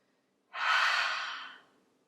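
A single long exhale during a seated yoga twist, breathy and close, rising quickly then tapering off over about a second.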